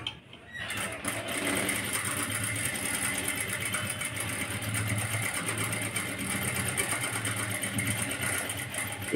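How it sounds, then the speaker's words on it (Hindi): A sewing machine stitches along the neck of a blouse in a steady, rapid mechanical whir close by, running almost without pause after a brief start-up. "और हम यहाँ से स्टिचिंग स्टार्ट करेंगे।"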